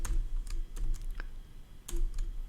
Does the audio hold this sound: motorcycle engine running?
no